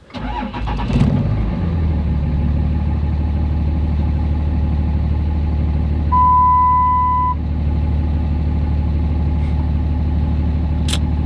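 A Cummins diesel engine cranks briefly, then catches and settles into a loud, steady close-up running drone, with a short electronic beep tone partway through and a sharp click near the end.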